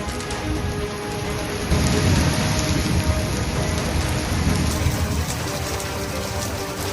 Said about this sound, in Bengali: কলকাতা, হাওড়ায় বিভিন্ন জায়গায় বৃষ্টির সঙ্গে তুমুল ঝোড়ো হাওয়ার দাপট, বজ্রবিদ্যুৎ সহ বৃষ্টি জেলাগুলিতেও